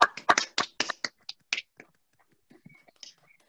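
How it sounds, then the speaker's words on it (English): A small audience claps briefly after a spoken story performance, a few seconds of sparse hand claps that quickly thin out to isolated claps and near silence. "Round of applause."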